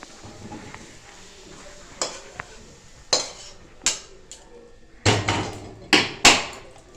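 Mango oil pickle is scraped and tipped from a container into a dish, making a series of sharp clinks and knocks of metal on metal. They come in irregular bursts, louder toward the end, over a quiet background.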